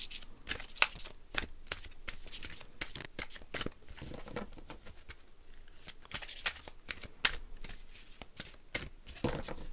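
Isis oracle cards being shuffled by hand, a close, soft run of riffling and flicking card sounds in quick irregular bursts, quiet and without speech.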